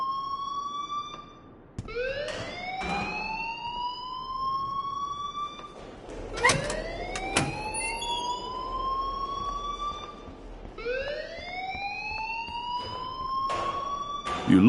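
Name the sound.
alarm sounding, from a video game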